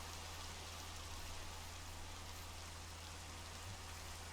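Rain falls in the modded Minecraft world All The Mods 5, an even, steady hiss of drops with no pauses or voices.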